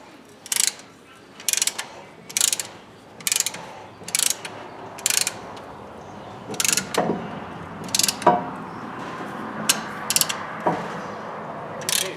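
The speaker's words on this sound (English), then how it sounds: "I'm going to grab my caliper compressor tool. I'm going to finish pushing that in" A caliper compressor tool ratchets a brake caliper piston back in during a brake job on a 2007-2014 GM Tahoe, Suburban or Yukon, giving short crisp clicking bursts in an irregular rhythm, close and moderately loud with no talk.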